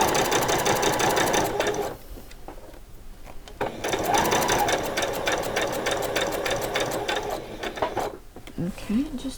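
Sewing machine stitching doll's coat fabric in two long, steady runs broken by brief pauses, with a little voice and handling noise near the end.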